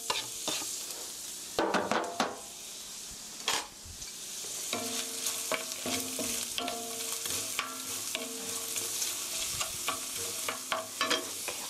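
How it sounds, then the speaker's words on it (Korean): Green onion stir-frying in a pan over medium heat, with a steady sizzle broken by repeated stirring and scraping strokes, close and fairly loud with no talk. "불은 미디엄 히트 중불로 하시고요. 한 2분, 2분 정도 볶아주세요."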